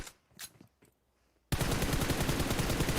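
Automatic gunfire in the video game PUBG Mobile bursts in suddenly after a near-silent lull, a loud rapid fusillade of shots filling the rest of the moment.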